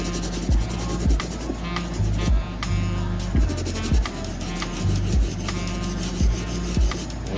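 A cleaning brush scrubs a pair of International Flight 3 sneakers in quick, steady, repeated strokes, close and fairly loud, with a faint tonal background underneath.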